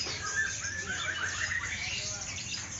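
Cililin birds chirp inside a bird shop, with a steady wash of high, bright tweets and short whistled calls throughout, set against a busy room murmur.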